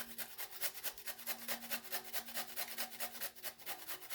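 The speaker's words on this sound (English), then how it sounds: "I just take a little chunk like this, and I start grating." A chunk of fresh ginger is rubbed back and forth on a kitchen grater in quick, rhythmic rasping strokes, close up and fairly quiet, with no talking.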